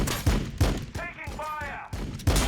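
Rapid bursts of video-game gunfire from a Warhammer 40,000 battle crack loudly in quick succession, mixed with a brief tonal whine, and a voice talks underneath.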